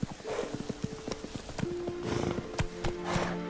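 Roach, the horse in Witcher 3, trots along with quick rhythmic hoof clops, close and steady, plus a few whinny-like tonal sounds and some background game noise.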